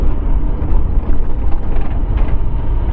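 Honda SP-125 motorcycle's faulty front suspension knocking and clattering as it rolls over bumps and potholes, a loud, continuous rattling mechanical noise close by with no talk.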